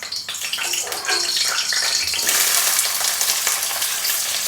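Chopped onions drop into a hot cooking pot set on a gas-cylinder burner, and the sizzle jumps to a loud, sustained hiss close by after a quieter start.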